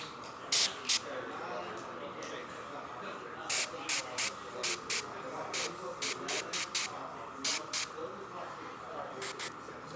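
Airbrush spraying basecoat paint on a model, short bursts of sharp hiss repeated in irregular bursts over a low steady background.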